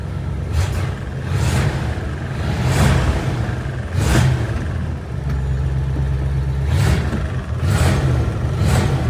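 A 1958 Chevrolet Corvette engine runs close by, a rough steady rumble with repeated revs swelling and fading every second or two.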